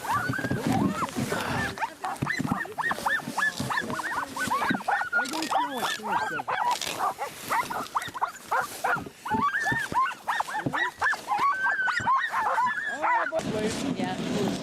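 Dogs on a snowy Alaska trip yip, bark and whimper in an excited, overlapping stream, while people talk nearby throughout.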